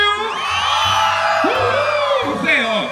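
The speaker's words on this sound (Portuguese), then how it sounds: "Agora eu quero ver o grito da galera mais animada do Brasil!" Crowd at a water park shouting and cheering together, a loud sustained roar of many voices with whoops and yells rising throughout, a host's amplified voice carrying over the top.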